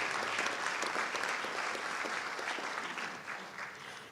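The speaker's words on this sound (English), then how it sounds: "Give her a round of applause tonight" Sustained applause from a large crowd at a town meeting, loud and steady throughout, tapering slightly toward the end with no voices standing out.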